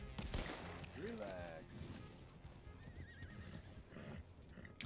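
Horse in the Red Dead Redemption video game whinnies loudly with a rising, wavering neigh, with hoof clip-clop and game ambience around it and a voice talking in the background.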